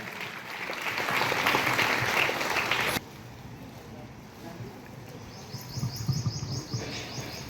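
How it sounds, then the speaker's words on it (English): An audience at a school results ceremony claps for a top-ranked SSC student, a moderate burst of applause that cuts off abruptly, followed by quieter background with birds chirping and a few scattered claps. "Big round of applause to her."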